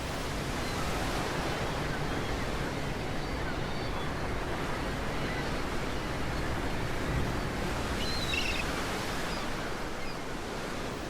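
Wild open sea surging around a ship in the sub-Antarctic, a continuous loud roar of waves and wind buffeting, with no pauses and a brief higher hiss late on.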